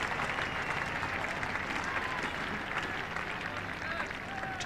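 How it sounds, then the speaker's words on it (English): Cricket crowd applauding a half century: a steady, distant wash of clapping from a large stadium audience that holds at an even level throughout, with a commentator's voice faintly under it. "Applause for the half century up."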